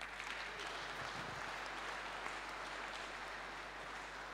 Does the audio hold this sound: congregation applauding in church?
yes